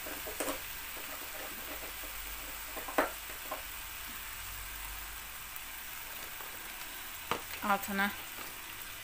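Döner meat frying in a little oil in a home kitchen, with a soft continuous sizzle, scattered clinks of a utensil stirring, and a brief spoken word near the end.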